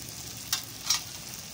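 Eggplant bharit cooked in a pan over a wood-fired chulha is stirred, giving two brief soft scrapes over a faint, steady background sizzle.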